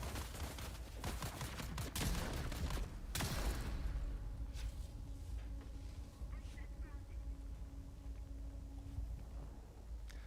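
Rapid bursts of weapon fire in Dune Awakening crackle loudly in the opening seconds, then fade into quieter ambient sound with a few scattered shots as a voice talks over it.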